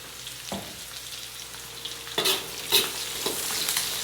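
Chicken feet, boiled and cleaned beforehand, are stirred in a pot for sinampalukang manok, with a low sizzle and a few scraping, clattering strokes of a spoon against the pot, close by.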